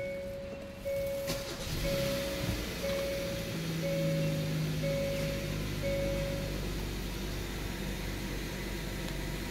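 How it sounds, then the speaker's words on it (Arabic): A 2022 Hyundai Tucson with a 2.5 litre engine is started by push button: a brief crank settles into a steady, low engine idle inside the car, with a repeating electronic chime beeping over it. "قبل شرح المواصفات أسمعكم صوت تشغيل السيارة، وطبعاً تشغيل السيارة عن طريق هذا الزر."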